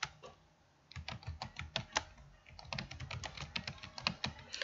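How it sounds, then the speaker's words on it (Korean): Rapid bursts of clicky computer keyboard typing as a PowerPoint slide title is entered, a short pause after the first keystroke, then two close, quick runs of keys with a brief gap between. "일단 이 상단 제목을 먼저 입력해 보도록 할게요."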